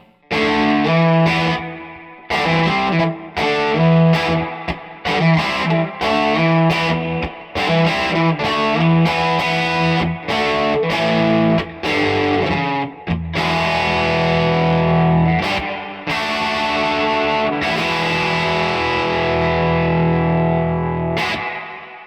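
Loud electric guitar through a Fender '68 Custom Vibro Champ Reverb small tube amp with a driven, gritty tone, choppy chords and riffs giving way to sustained ringing notes, played alone with no talking.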